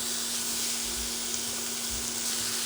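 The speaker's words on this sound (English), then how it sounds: "place this frying pan, same frying pan, and put beef meat" Low, even sizzling of thinly sliced beef frying in a pan, with a faint steady hum and a couple of soft low thumps.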